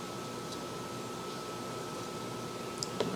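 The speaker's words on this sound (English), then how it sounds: "you hear my air conditioner cutting on" A household air conditioner hums steadily as it cuts on, a faint, even broadband whir with a slight tonal drone running throughout, a couple of small clicks near the end.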